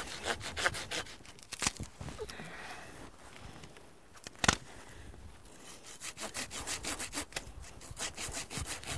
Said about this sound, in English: You can get one of these limb saws at the hardware store, the convenience store.